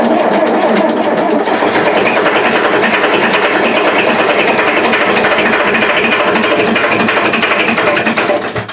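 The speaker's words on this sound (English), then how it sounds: "Oh, I gotta turn down the idle just a bit." LS V8 engine fitted in a van, idling high while warming up: a loud, steady close-up mechanical drone with fast rhythmic ticking, running continuously and dipping slightly at the end.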